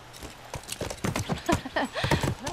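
A short burst of horse hooves clip-clopping in The Last of Us video game, a few uneven hoofbeats close by with brief snorting or whinnying sounds and a low hum beneath.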